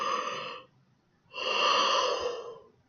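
A person yawns twice, each a long, breathy exhalation, the second longer and louder, alone with no other sound.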